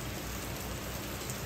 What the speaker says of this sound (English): Yeah, if you can tell, it's raining.